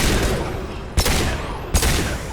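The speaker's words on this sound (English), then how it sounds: "Thane just took that explosion, that mech explosion, straight to the temple." A mech blows up in the Mass Effect 2 video game, heavy booming blasts over a dense roar of continuous gunfire and combat noise, two sharp bursts standing out.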